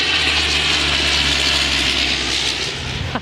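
A domestic commercial airplane passes overhead in Iceland, a loud, steady broadband engine roar that fills the whole stretch with no talking over it.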